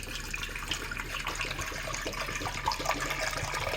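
Water is poured from a bottle into a 3-litre pressure cooker holding sweetcorn, a steady splashing gurgle that runs unbroken and close, without talk.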